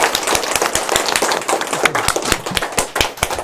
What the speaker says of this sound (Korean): 일단 우리 하나님께 영광의 박수를 먼저 돌려드리고 있습니다